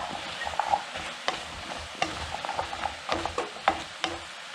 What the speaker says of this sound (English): And stir to combine.